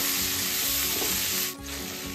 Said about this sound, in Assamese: গোটেইখিনি অকণমান কোমল হোৱালৈকে ভাজি লওঁ